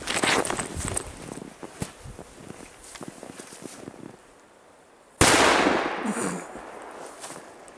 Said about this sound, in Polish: Ale uwierzcie, że te petardy są niezłe.